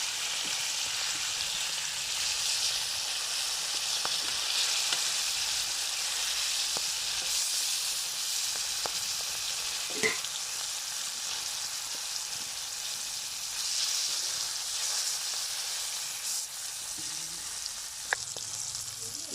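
Food fries in hot oil in a home kitchen, a steady, moderately loud sizzle and crackle running unbroken throughout, with a few faint pops and no voices.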